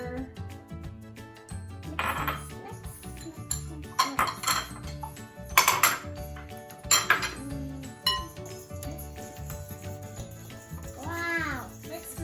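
Banana muffin ingredients, with sugar just added, are mixed in a bowl, giving bursts of clinking and scraping of a utensil against the bowl with pauses between, close and moderately loud.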